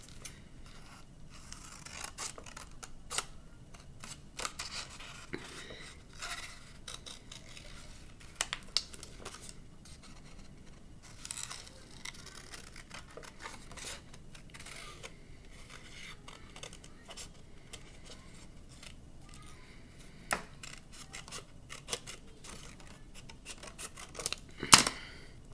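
Scissors cutting out a paper bike part, a quiet, close series of crisp snips and rustles of paper, irregular and continuous throughout.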